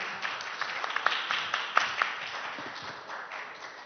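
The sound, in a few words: audience applause welcoming a speaker to the stage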